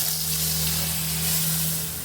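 Hot oil in a wok sizzles and hisses steadily, a soft continuous frying crackle close by, with no voices over it.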